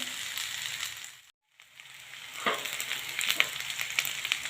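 Fresh green peas tip into hot sesame oil with green garlic for a winter rice dish. Faint kitchen noise cuts to a brief silence, then a crackling sizzle flares and keeps popping sharply nearby; no one speaks.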